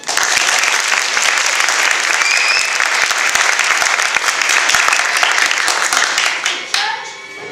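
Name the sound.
audience applause for improv performers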